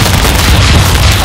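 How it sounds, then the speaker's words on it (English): A single loud, booming shotgun blast from the video game Stick Fight, heavy and full-bodied with no talking. "You should not spam the shotgun."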